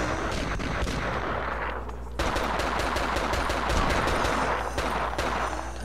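Rapid bursts of automatic gunfire crackle almost continuously in the PS2 game 25 to Life, with overlapping shots that sound like a sustained firefight, fairly loud and unbroken.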